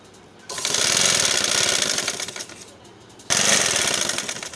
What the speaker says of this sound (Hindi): ये अब मैं कंधे की सिलाई लगा रही हूँ